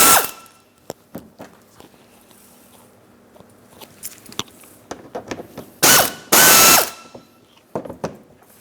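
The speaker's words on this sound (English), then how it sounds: "small ratchet." Small ratchet working a bolt loose on the front bumper bracket of a 2008-2016 Chrysler Town & Country, close, sharp irregular clicking bursts with two louder sustained ratcheting runs, no talking.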